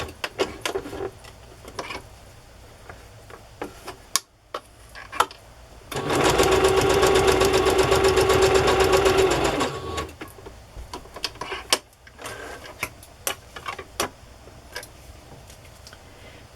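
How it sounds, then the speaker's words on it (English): A sewing machine runs a straight stitch along ribbon edges in one steady burst of about three seconds, its rapid even whirring standing out between quiet stretches of small clicks and handling noises. "I think I'll just use a straight stitch here."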